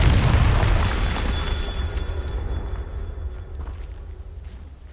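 A fiery Confringo spell blast in Hogwarts Legacy lands as a heavy, booming explosion at the start, then a rumbling roar that slowly fades away over several seconds with no voices.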